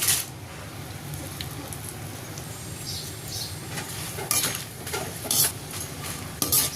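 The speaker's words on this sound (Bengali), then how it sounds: "মরিচগুলো লাল লাল করে ভেজে নিয়েছি" Dried red chilies fry in oil in a wok, giving a soft steady sizzle close by, with several sharper bursts of spattering and faint scraping from stirring.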